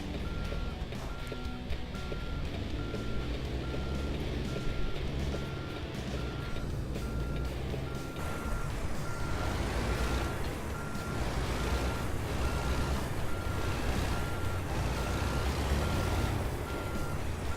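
Truck backing a trailer into a spot in American Truck Simulator, with a steady rumbling engine and repeated reversing beeps sounding throughout, fairly loud and continuous.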